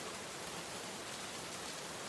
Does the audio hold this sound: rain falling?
yes